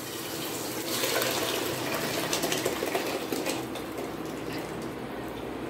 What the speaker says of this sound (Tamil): கொஞ்சமாக இதில் தண்ணியை கலந்து இதில் நான் ஊற்றிக்கிறேன்.